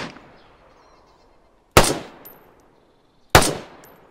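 Two loud, sharp rifle shots ring out about a second and a half apart in DayZ Standalone at the NWAF airfield, each with a crisp crack and a short decaying tail over near silence.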